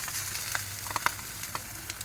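Fish wrapped in banana leaf sits on a stovetop and sizzles softly and steadily, with faint pops and crackles scattered throughout.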